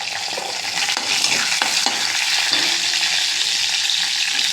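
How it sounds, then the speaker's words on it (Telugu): Lentils dropped into hot oil for a Telugu-style ponnaganti greens and dal dish, giving a steady, close broadband sizzle with a few sharp crackles and stirring scrapes, no talking. "ఆయిల్ వేడెక్కింది, కొంచెం పప్పు వేసుకుందాం."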